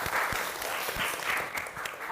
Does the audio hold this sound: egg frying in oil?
no